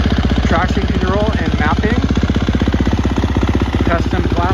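A 2017 KTM 350 SXF motorcycle with an FMF full exhaust idles close by after its electric start, a loud, steady, rapid engine pulse throughout while someone talks over it.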